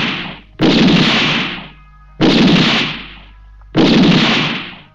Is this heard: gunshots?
yes